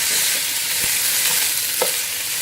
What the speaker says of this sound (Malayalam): ഒന്ന് നല്ലോണം ആ വെള്ളപ്പറ്റൊക്കെ ഒന്ന് പോകണം